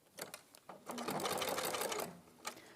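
Sewing machine stitching along a bag seam, a steady close mechanical whirr of needle strokes running for about a second and a half, with a few brief stitch bursts before and after.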